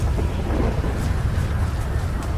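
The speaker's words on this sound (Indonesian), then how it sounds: "Itu kesamber geledek rupanya" Thunder from a lightning strike in the video game GTA V, a loud, steady rumbling roar that fills the whole stretch with no pause.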